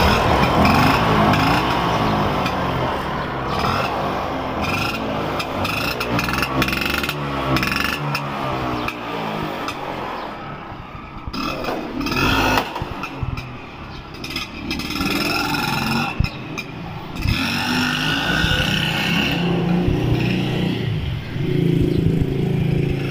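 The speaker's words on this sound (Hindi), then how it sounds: "अब आपको इसकी मैं स्टार्टिंग भी चेक करवाऊंगा और इसका ड्राइव टेस्ट भी करके दिखाऊंगा।" An old-model Vespa 150 petrol scooter engine runs steadily and loud throughout, a close, continuous mechanical drone with some clattery revving and intermittent knocks, no voices.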